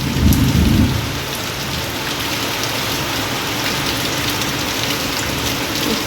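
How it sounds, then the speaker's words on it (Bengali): Thunder gives a deep rumble in the first second during a heavy downpour, then fades, leaving the steady, loud hiss of rain falling close by. "ওই দেখো বন্ধুরা, মেঘ ডাকছে।"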